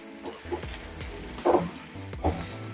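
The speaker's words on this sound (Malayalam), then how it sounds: "ചെറിയ ഉള്ളി ആയതുകൊണ്ട് തന്നെ പെട്ടെന്ന് കുക്കായി കിട്ടും ജസ്റ്റ് ഒന്ന് കുക്കായാൽ മതി കേട്ടോ" Small onions (shallots) frying in a pan give a steady close sizzle, with a few louder crackling bursts as they are stirred and no voices.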